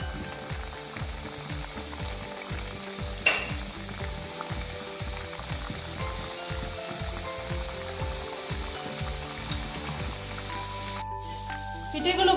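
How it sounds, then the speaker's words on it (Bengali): Milk-filled gokul pitha frying in hot oil, a steady soft sizzle and crackle with faint rhythmic bubbling, fairly quiet and close, running for several seconds. "পিঠেগুলো ভাজা হচ্ছে"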